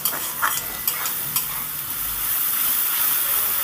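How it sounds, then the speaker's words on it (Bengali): A spice paste with onion, turmeric and chilli powder and a little water is stirred as it fries. Several spoon-scrapes and knocks come early, then give way to a steady, close hiss of sizzling. "দেখুন নেড়ে চেড়ে সুন্দর করে আমি মশলাটা কষিয়ে নিচ্ছি"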